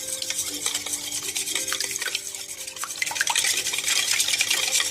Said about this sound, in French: on mélange bien les ingrédients